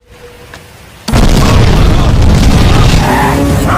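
A sudden loud boom after a quiet second, followed by a sustained roaring rumble that keeps going to the end.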